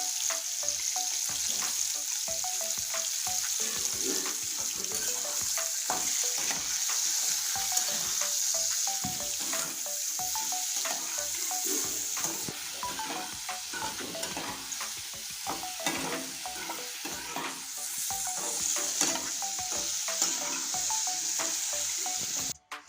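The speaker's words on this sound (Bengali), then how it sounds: "এই দেখুন আমের চাটনিটা ভাজতে ভাজতে একদম পুরোটাই গলে গিয়েছে" Mango chutney with sugar fries in a pan under constant stirring, a close, steady sizzle broken by rapid repeated spoon scrapes throughout, with no one talking.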